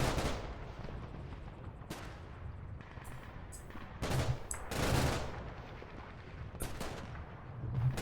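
Tank cannon firing high-explosive rounds in the Combat Mission wartime game, several sharp loud reports at intervals over steady battle rumble, with nearby bursts and gunfire in the mix.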